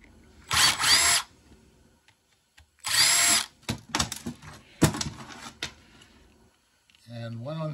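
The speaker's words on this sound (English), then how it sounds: "Next, you change your bit to a Phillips. There are three screws on this aluminum heat sink." A power drill fitted with a Phillips bit whirs in short bursts as it backs screws out of an aluminum heat sink, with clicks and handling noises between runs and a voice talking at the end.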